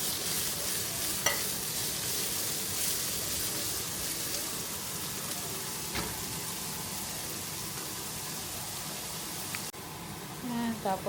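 Garlic and pepper fry in a pan, a steady hiss and sizzle running throughout with occasional scrapes and clinks of stirring near the end.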